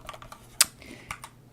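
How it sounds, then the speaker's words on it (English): Someone types on a KEMOVE DK61 keyboard, up close: scattered clicky keystrokes in an uneven rhythm, one or two hitting noticeably harder than the rest, with no talking. "So this is the KEMOVE keyboard"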